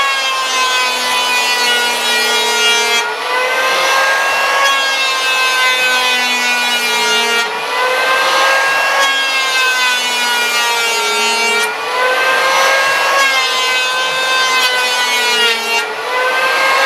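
A hand plane shaves a wooden board in long, steady strokes about every four seconds, each pass a loud, ringing, slightly squealing scrape with no talking.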